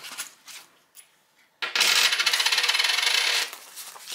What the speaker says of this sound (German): Kann ich bestimmt auch einmal das Kleingeld rauswechseln.